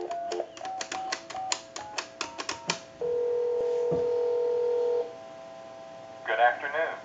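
Touch-tone dialing of a time and temperature number on a converted Mickey Mouse telephone: about a dozen quick DTMF beeps in an uneven run, then a sustained two-second tone, a quiet pause, and a brief burst of sound at the end.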